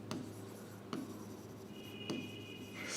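Marker or chalk writing on a classroom board during an accounting lesson, with three short scratchy strokes spaced about a second apart and a longer squeaky stroke near the end, close and moderately loud over a steady room hum.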